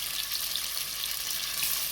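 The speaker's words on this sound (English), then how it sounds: "I'm going to add my pork, and I want to sear it nicely" Pork sears in hot oil with a soft, steady hiss and crackle that stays fairly quiet and even, without voices.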